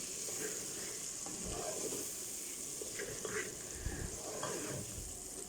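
Masala spices sizzle gently in a pan while methi gosht is being cooked, a soft, steady frying hiss with occasional stirring scrapes, fairly faint and close.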